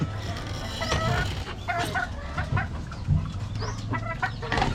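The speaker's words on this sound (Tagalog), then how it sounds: "Yan yung nanay ng mga black na sisiw natin" A black Malsim mother hen clucks repeatedly in a farmyard, her calls mixed with chirping from other birds and low background noise throughout.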